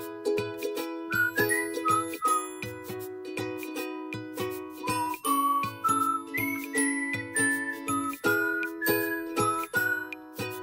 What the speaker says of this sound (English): then the chime will ring.